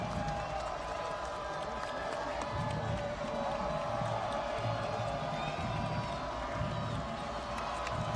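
Steady crowd roar fills the stands at a State College versus Central Dauphin high school football game, a dense continuous wash of cheering and murmur with faint whistles and voices mixed in, held at an even level throughout.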